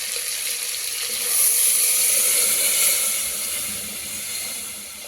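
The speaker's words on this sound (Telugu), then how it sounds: "ఒక 1 లీటర్ ఆఫ్ వాటర్ యాడ్ చేసుకుందామండి" About a litre of water poured into a pot of mutton bones with mint, coriander and green chillies, a steady close splashing rush that swells slightly midway and then eases off, with no talk over it.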